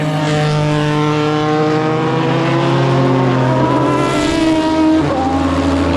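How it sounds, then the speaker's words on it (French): Mosler MT900 R and other race cars lapping the circuit at night at Le Mans, engines roaring loud and steady throughout, with harmonic whine shifting as a car passes closer around the five-second mark. "on se fait plaisir et on regarde les voitures"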